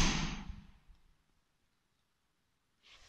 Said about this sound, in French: Ce que vous venez d'entendre, c'est la porte qui a claqué d'en haut.